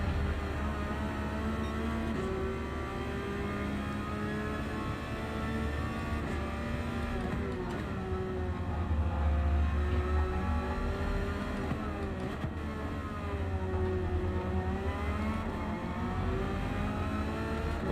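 An AMG race car in Gran Turismo 7 sings a sustained, fairly quiet engine note, rising and falling in pitch as it revs through gear changes and corners, with no talking.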